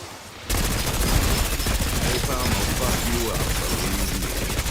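An AK-74 in Black Ops 6 fires in a sustained, steady stream of heavy, fairly slow-cadence shots that starts abruptly and stays loud throughout, with a voice talking over the gunfire.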